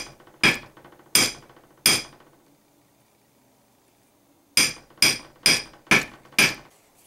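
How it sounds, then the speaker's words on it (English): Hammer strikes flattening the end of a wire on a metal eyelet-setting papercraft tool: three sharp ringing blows, a pause, then five quicker close blows in a steady rhythm. "all I'm going to do is just hammer the end of this wire"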